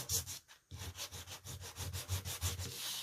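A worn sanding block rubs back and forth over painted Readi-board foam core in quick, even strokes, making a close, dry, rhythmic scraping with one brief pause early on.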